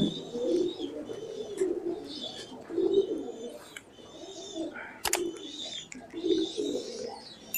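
Soft, repeated coos from a pigeon with watery eyes pulse in a rhythmic pattern, with a sharp click near the middle and light background chirps.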